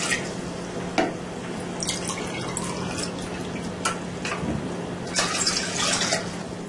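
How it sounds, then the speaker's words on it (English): Water pours into a cooking pot for a stew, a continuous splashing, gurgling stream at moderate loudness with occasional sharper drips and bubbles throughout. "So we put water into pot first."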